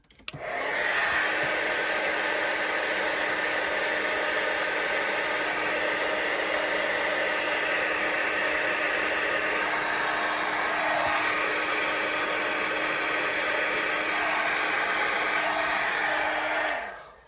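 A heat embossing tool blows with a steady, loud whooshing roar that runs unbroken for the whole stretch, then cuts off at the end.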